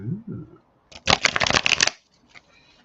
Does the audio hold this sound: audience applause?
no